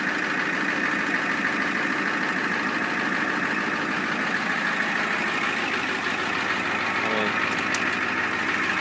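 The turbocharged IDI diesel of a 1990 Ford F-450 idles at close range in a steady, even low rumble with a faint whine, and a short higher chirp comes near the end.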